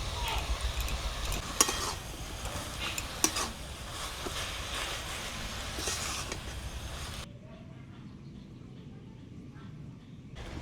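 A mustard and green chilli paste sizzles in a pan of curry with methi greens and katla fish while it is stirred, with utensils clattering. The sizzle stays steady for about seven seconds, then drops to a faint hush.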